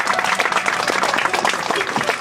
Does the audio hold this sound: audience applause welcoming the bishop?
yes